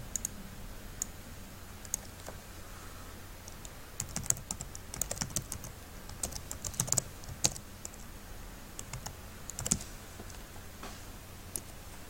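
Computer keyboard typing and mouse-like clicking at a desk, a quiet, scattered run of light taps over about twelve seconds with brief clusters of keystrokes.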